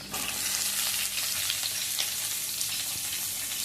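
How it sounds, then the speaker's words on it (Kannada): Onion frying in oil for a beetroot stir-fry, a dense continuous sizzle close up with a few light stirring clicks, no one speaking. "ಈರುಳ್ಳಿಯನ್ನು ಹೆಚ್ಚೇನು ಫ್ರೈ ಆಗಬೇಕಂತೇನಿಲ್ಲ."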